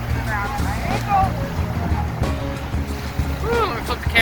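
Small waves wash and churn at the shoreline of a Michigan beach, close and continuous, while people talk and exclaim over the surf.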